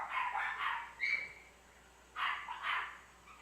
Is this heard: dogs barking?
yes